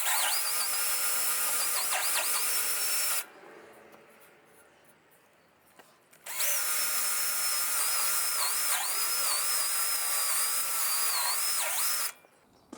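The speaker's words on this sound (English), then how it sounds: "To clean the inside, I think I'm going to be using maybe a combination of this flap wheel." A flap wheel on a high-pitched power tool grinds inside an aluminum tube in two long, close bursts. The whine wavers under load, with a quiet pause between runs.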